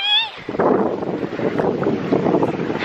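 Strong outdoor wind buffeting a microphone at a lakeside cottage, a loud continuous low roar with gusty surges, preceded by a brief high whistling tone at the start.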